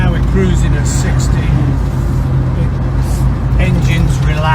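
The engine of a 1967 Volvo 122S Amazon wagon cruising at 60, heard from inside as a steady low drone with road and wind noise, holding even throughout with no talk over it.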